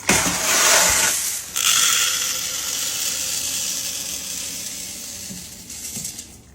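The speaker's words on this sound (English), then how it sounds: "Our peppercorns are ready. We're gonna grind them up." A grinder or blender grinding dehydrated peppercorns for a bourbon peppercorn brisket seasoning, a loud mechanical whir that fades after a second, then a second burst of steady grinding that slowly tapers.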